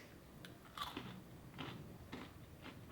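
Crunchy homemade candied pecans bitten and chewed up close, a few distinct crisp crunches spaced across a short stretch with no talking.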